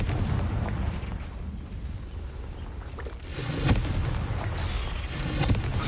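Confringo fire-blast spell cast in the Hogwarts Legacy video game, heard as a dense roaring explosive burst that swells around the middle and rumbles on loudly over continuous low game noise.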